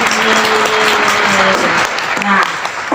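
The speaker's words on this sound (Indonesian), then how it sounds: "kita tepuk tangan dulu" Students in a school quiz session applaud when the quiz ends, loud clapping throughout with a voice talking over it.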